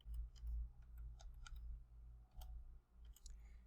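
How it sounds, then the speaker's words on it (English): Quiet, close clicks of keys being typed on a computer keyboard, a handful of separate taps spread unevenly over a low steady hum. "At the terminal, you type in power up"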